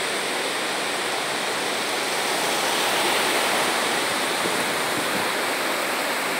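Water pours over the spillway of the overflowing Acaraú Mirim dam in the backcountry of Massapê, Ceará, a loud, constant roaring rush with no break.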